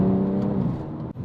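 A BMW M140i with its B58 engine in sport mode drones loudly and steadily from close by as it accelerates, with a brief sharp dip in level near the end.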